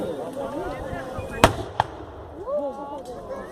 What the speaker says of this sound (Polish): I wystrzał z armaty także, który ma rozproszyć przeciwnika.